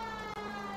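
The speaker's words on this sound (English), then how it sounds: "Oh yeah, we got the sirens on." A police car siren in the L.A. Noire video game wails steadily, quiet and unbroken apart from one tiny dip, with no talking over it.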